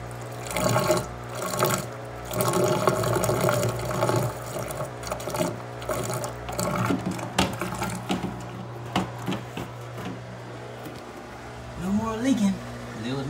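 Water gushes steadily into a washing machine set to a rinse and spin cycle during a drain hose repair, a continuous rushing flow with low machine hum, sounding close and moderately loud throughout.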